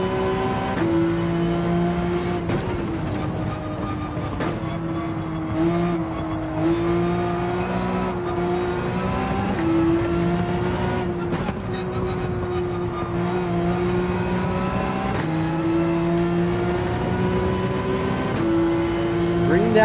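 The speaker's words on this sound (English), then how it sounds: "Good thing this 911 can get revved out quite a bit." A Porsche 911 engine in Gran Turismo 7 at the Red Bull Ring revs continuously and high with steady rising and falling pitch through gear changes, loud and constant throughout.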